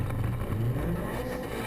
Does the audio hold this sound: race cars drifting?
yes